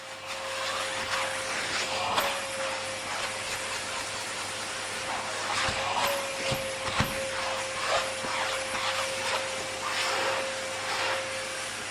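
Vacuuming dirty old Peugeot car seat upholstery with a crevice tool, a steady close whine with a constant tone and airy hiss, broken by brief bumps and scrapes as the nozzle moves across the fabric.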